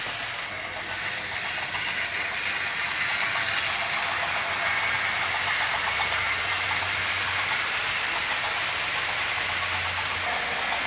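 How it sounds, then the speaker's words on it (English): A Tri-ang model railway single wheeler locomotive runs steadily along the track, giving a continuous close hiss and rumble with no voices. "let's get this one up and running for you"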